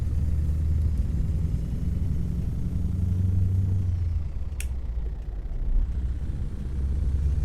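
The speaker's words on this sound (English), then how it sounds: "that was very noisy compression brake, that was" A Peterbilt 379 truck in American Truck Simulator rumbles with a loud, steady low engine drone throughout, the compression brake throbbing and shifting in tone without pause.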